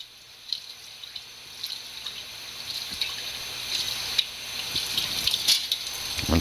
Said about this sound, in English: I'll rinse that all off.